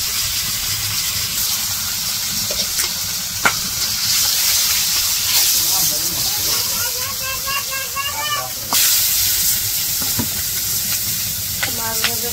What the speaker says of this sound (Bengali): তো মাছগুলো ভাইজা নিতেছে।